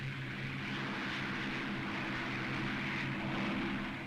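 A Supermarine Spitfire's piston engine drones steadily in flight, a loud, even propeller hum with a constant low throb and no pauses.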